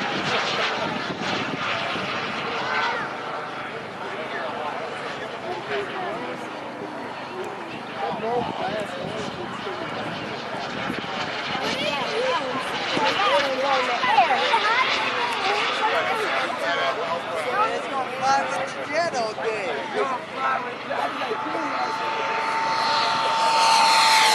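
Radio-controlled model jet planes fly past at a model aircraft fly-in, a steady engine roar that swells as they pass, with people talking over it throughout.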